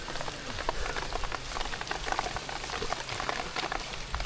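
Heavy monsoon rain pours onto rice fields in rural Konkan, a dense, even, loud hiss of water that runs without a break.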